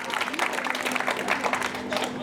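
Audience applause at a Hindi poetry recital, a dense sustained clatter of many hands clapping throughout, steady and fairly loud with crowd noise, no clear talk.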